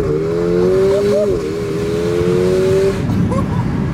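A tuned Mercedes-AMG car engine revs hard and accelerates, its rising tone loud and sustained for about three seconds before easing off, with a brief second rev near the end.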